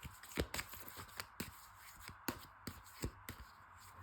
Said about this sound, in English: let me shuffle and find more cards.